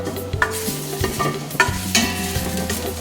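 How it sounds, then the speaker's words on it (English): Mashed garlic sizzles in a heated Instant Pot while oxtail is being cooked, a steady frying hiss with stirring scrapes and light clinks over a faint tonal background. "mashed up garlic will go in the pot. Just give it a minute to heat a bit."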